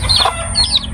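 A chicken clucks close by while its wings flap briefly as it flies off, with a few sharp, high calls over a low background rumble.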